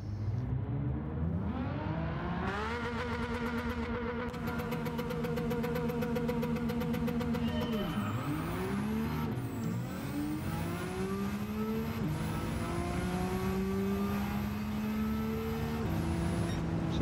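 A race car in Gran Turismo 7 launches in a 0 to 400 acceleration run, its loud engine screaming upward through the gears with sharp drops at each shift, then climbing again steadily and close throughout.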